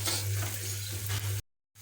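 Sliced onions sautéing with a pinch of salt in a pan for Kerala beef roast, a dense steady sizzle with stirring over a low hum, cutting out abruptly near the end before briefly returning.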